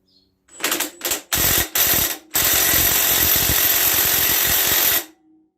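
A half-inch drive wrench being turned on an engine shaft during removal of a Kawasaki Z1 900 engine, giving several short close ratcheting bursts followed by one long steady run of rapid metallic clicks.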